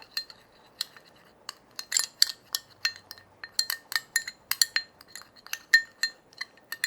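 Spoon clinking against a bowl while aloe vera gel and natural hair dye are stirred together, a steady run of light, sharp ticks and taps close by with no talking.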